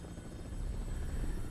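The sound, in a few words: helicopter flying in video game Resident Evil 6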